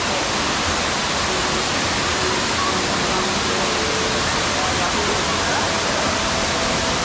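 A small waterfall at the Garden of Caves in Meghalaya, water dropping from flat rock above into a pool below, heard close up as a loud, steady, unbroken roar.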